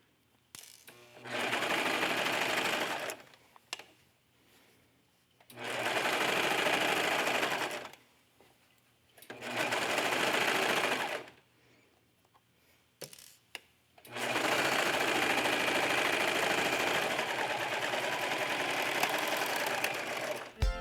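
A domestic sewing machine stitches fabric for a hooded cape around the neckline, running in steady bursts of a few seconds separated by pauses, then a longer continuous run, loud and close with no speech.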